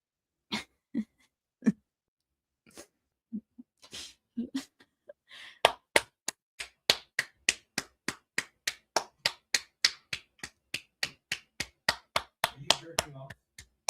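Hand claps ring out, a few scattered claps and murmurs at first, then a long run of sharp, evenly spaced claps close by.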